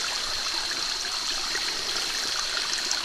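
Running stream water in a valley, a steady close rushing and trickling flow with a bright hiss and no talk over it.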